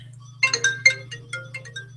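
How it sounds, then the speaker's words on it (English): A mobile phone rings with a bright, melodic ringtone, a quick run of chiming notes over a steady low electrical hum in an indoor room. "my phone's ringing"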